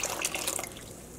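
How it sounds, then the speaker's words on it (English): Cool tap water pours into a dye pot of yarn being dyed with Kool-Aid, a steady close splashing trickle that fades toward the end, with no voices. "What I'm adding now is just some cool tap water."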